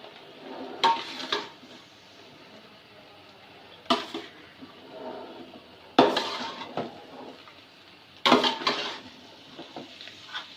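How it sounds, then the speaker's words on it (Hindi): Egg fried rice is stirred in a large pot with a metal spatula, the tool scraping and clanking against the metal in four separate bursts over a steady background hiss. "ये देखें, इसको अच्छी तरह मैं मिक्स कर लूँ"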